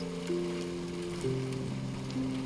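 A soft, steady patter of rain falls before a storm, a hushed continuous hiss laid under sustained tonal music notes.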